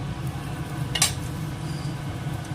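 A dried red chilli sizzles in hot oil in a wok, a low steady crackle with one sharp metallic clink about a second in, no voices.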